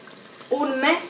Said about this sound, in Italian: io aggiungo un mestolo di brodo